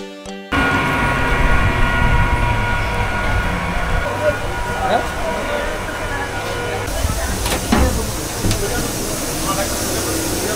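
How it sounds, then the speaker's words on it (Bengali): A Kharagpur–Asansol MEMU express train pulls in with a loud, steady rumble and hiss of rolling wagons, sustained for about ten seconds after a sudden start. "ট্রেন মোটামুটি রাইট টাইমে এসেছে।"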